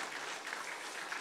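A church congregation at a Sunday service in Gumi Church claps steadily, a dense, even wash of many hands applauding for a short stretch with no talk.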